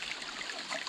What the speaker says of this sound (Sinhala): දොළ පාරක් ගලාගෙන යනවා.